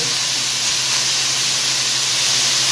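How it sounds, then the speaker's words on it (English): Steak meat for a Philly cheesesteak sears in a hot pan, a loud, continuous close-up sizzle and hiss that holds steady without pause throughout. "we're just gonna leave that to sear for a short while. It's gonna start releasing juices and stuff"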